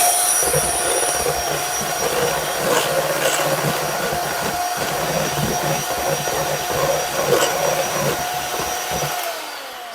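Electric hand mixer with beaters whirring steadily through a batter until smooth, a loud, close, continuous motor whine holding for about nine seconds before cutting off at the end.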